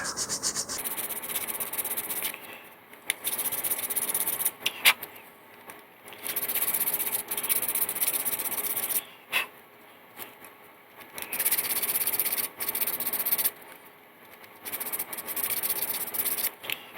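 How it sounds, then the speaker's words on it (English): Model rocket parts for a Sky Rockets East Wind kit being filed by hand, a run of dry rasping strokes in bursts of a second or two separated by short pauses, close and moderately quiet with no talking. "it looks like all of these are going to need to be filed"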